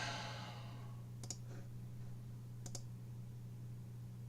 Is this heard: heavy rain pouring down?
no